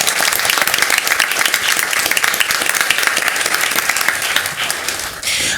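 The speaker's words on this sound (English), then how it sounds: "So let's give them a round of applause." Sustained, dense applause from an audience at a school board meeting, steady and loud throughout with no talking over it.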